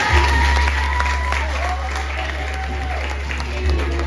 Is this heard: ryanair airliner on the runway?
no